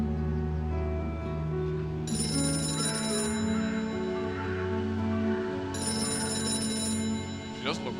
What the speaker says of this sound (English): How did you know the phone would ring just now?